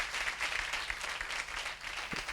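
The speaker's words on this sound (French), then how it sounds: "soyez le seul public à ovationner encore très très fort ces enfants" Enthusiastic audience ovation for children performers on a French television show, dense rapid clapping heard at moderate volume, steady throughout with a few sharper individual claps standing out.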